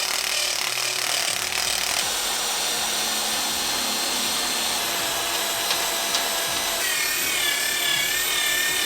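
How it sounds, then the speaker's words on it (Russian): A steady, continuous abrasive whirring and scraping of a drill with a wire brush removing rust from metal, running loud and unbroken throughout with no voices. "Вставляем в патрон дрели железную щетку и затягиваем"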